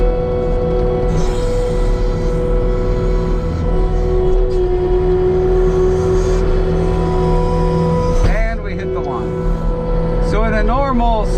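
A New Holland skid steer plowing snow around a farm and house, its engine droning loudly and steadily throughout, with a brief rising rev near the end and people talking over it.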